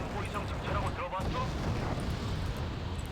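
Missile and artillery fire in the video game Wargame Red Dragon, with tanks and BMPs firing missiles: a dense, rumbling barrage of booms and bursts blending into constant battlefield noise, with someone talking over it.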